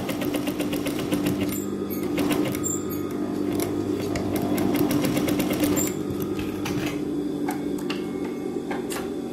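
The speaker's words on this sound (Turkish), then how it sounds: "Oradaki karelikten aşağıya, yani diğer kısmı dikişini tamamlayarak bitireceğim." A sewing machine runs continuously while stitching a textile-style slit on a garment's upper body, with a steady close mechanical whir and rapid ticking needle rhythm throughout.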